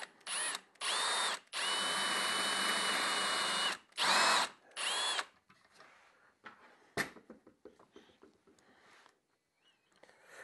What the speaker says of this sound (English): Now I'm just going to start that screw.